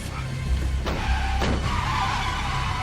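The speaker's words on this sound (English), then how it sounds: "There is a random car crash." Car skidding during a crash in the 1997 film Jack Frost, engine rumble beneath two sharp tire screeches close together, then a sustained squeal trailing to the end.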